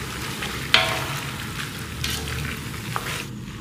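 Chicken gizzards sizzle in a pot with cumin, coriander and black pepper over medium-low flame, frying steadily while a spoon stirs with occasional scraping clinks up close.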